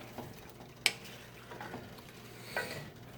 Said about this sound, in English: We're going to stir this together.